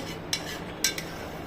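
A few light metallic clinks of a spoon stirring milk in a pan, spaced apart, over a quiet background hum.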